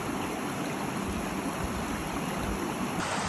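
A mountain river near a road in the Italian Alps rushes steadily and close by, a continuous broadband roar of flowing water with no pauses and no voices.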